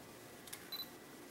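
A Fujifilm FinePix Z1 compact digital camera, a junk unit, has its shutter button half-pressed, giving a brief faint click and a short high beep in an otherwise quiet room.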